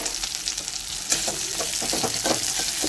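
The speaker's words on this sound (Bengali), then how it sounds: "আর দিচ্ছি রসুন আর কাঁচা লঙ্কাগুলো ভেজে নিচ্ছি ফোড়ন দিয়ে।" Garlic, green chillies and chopped onion frying in oil, a loud, close, continuous crackling sizzle with bright spatters, steady from start to end with no talking.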